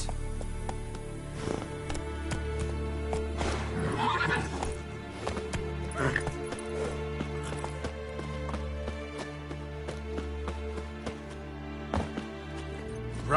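Roach, Geralt's horse in The Witcher 3 video game, gallops with steady clip-clopping hoofbeats and repeated neighs and whinnies, loud and close over a continuous background score.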